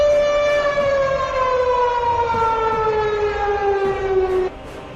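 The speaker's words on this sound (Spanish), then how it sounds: "las sirenas del Palacio del León comenzaron a resonar" Civil defense sirens wailing loud and close in a steady, slowly falling tone that cuts off near the end, with low rumbling underneath.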